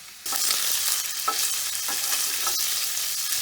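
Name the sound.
sausage frying in a pan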